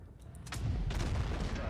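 A single heavy tank cannon blast booms out in World of Tanks Blitz, from a GSOR 1008 tank, followed by a rumbling low-end echo, with faint game background noise around it.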